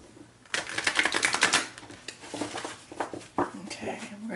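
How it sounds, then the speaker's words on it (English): Stiff, new tarot cards being shuffled by hand, giving bursts of riffling and snapping close by, with a longer flurry early on and shorter clicks afterward while a voice talks quietly in the background. "these cards are very hard to shuffle"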